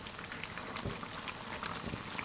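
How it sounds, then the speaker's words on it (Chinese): Cakes of potato and flour deep frying slowly in oil over medium-low heat make a soft, even bubbling fizz, continuous and fairly quiet, with faint scattered pops. "全程一定要中小火慢炸，"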